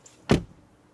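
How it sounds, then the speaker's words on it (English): A Mercedes E-Class car door shuts with a single short, solid thud, close by and fairly quiet, with a faint click just before. "Door closing sound we have forgotten."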